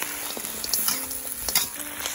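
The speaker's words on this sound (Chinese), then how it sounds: "炒两下，我们放入姜蒜，下入羊排，加入生抽" Lamb ribs hit hot oil in a pot with ginger, garlic, star anise and cinnamon, then sizzle and crackle steadily as soy sauce is added and stirred, with scattered clinks of the stirring close by.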